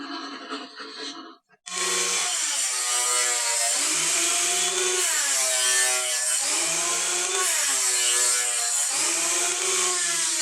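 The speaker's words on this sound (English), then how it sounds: "Then we're going to run it through the planer for a nice even surface." A glued-up edge grain wooden cutting board fed through a thickness planer: a short motor whine, then a loud, sustained mechanical roar with rising and falling pitch as the wood passes the cutterhead.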